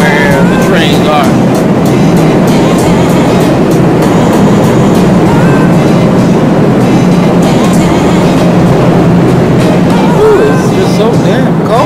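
A train rolls through a station on a cold day, a steady loud rumble of wheels and rail noise lasting throughout, with voices faintly under it.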